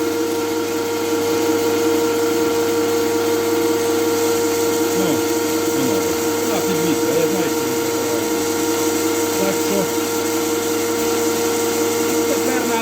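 A pellet mill granulator runs with its die warmed up, a loud continuous mechanical drone with steady tonal hum throughout, close by, with a voice briefly under it.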